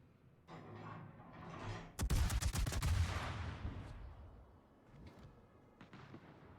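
A heavy gun salvo from the cruiser Ibuki in a naval warship game: a sharp crack followed by a rapid, loud rumbling burst of shots that decays into a low roll, with faint distant booms afterward.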